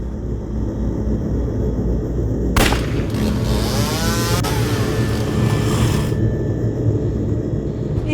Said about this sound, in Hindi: मम्मी जी यहाँ से एक बाइक स्पीड से गई, लगता है साइलेंसर फट गया होगा उसका।